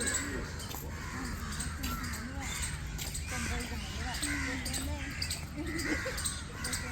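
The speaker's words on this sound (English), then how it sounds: "The crows are chirping and the squirrel are chirping." Crows cawing repeatedly around a large open government secretariat area in New Delhi, several calls scattered across a steady outdoor background with bird chatter and some people talking.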